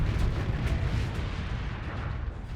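Swarmer missiles tear into a ship in the Starsector space combat game, a dense, continuous roar of rapid explosions and heavy low rumble that stays loud and steady throughout without letting up.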